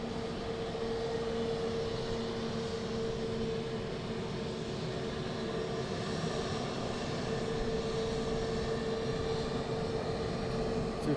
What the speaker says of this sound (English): We do have another inbound aircraft